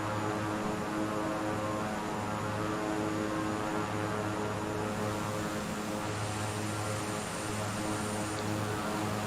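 Steady propeller airplane engine drone in Microsoft Flight Simulator 2020 during a fast climbing flight toward Laguna Seca, a continuous even hum with layered harmonics holding throughout, no talking.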